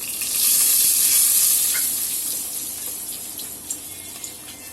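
Dry red chillies sizzle and crackle in hot oil in a pan for rasam tempering, a steady loud frying hiss that eases slightly, with a few sharp pops near the end.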